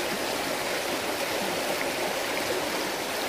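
Flowing river water in Switzerland, a steady broadband rush with no breaks, fairly loud and close, running alone throughout.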